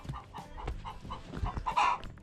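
Pet chickens clucking in a winterized, insulated coop, a series of soft repeated clucks and murmurs at moderate distance with a louder squawk near the end, no talk.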